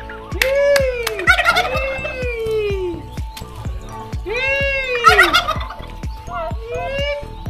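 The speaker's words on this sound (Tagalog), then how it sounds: "ito po yung aking mga alaga, mga pabo" Turkeys gobble loudly and repeatedly at close range, with rapid rattling calls overlapping one another against a faint background.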